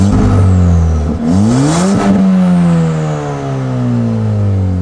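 Ford Fiesta ST with a downpipe and E30 tune revving, heard from the driver's seat: loud, close engine notes climb and fall in pitch through repeated throttle blips, with a sharp rise and drop near the middle and a sustained rev after.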